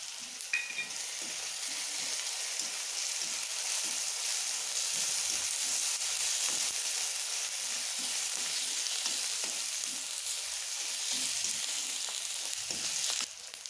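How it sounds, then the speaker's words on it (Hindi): Ginger-garlic paste frying in a pan for paneer biryani gives a steady, close sizzle that runs unbroken for the whole stretch, with soft scraping stir strokes on top and no talking. "और लहसुन का पेस्ट भी डालना है।"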